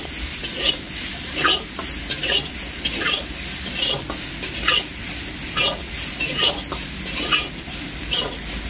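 Meat frying in a Chinese frying pan: a continuous close sizzle with rhythmic spatula scrapes and stirring strokes repeating roughly every second, with faint voices in the background.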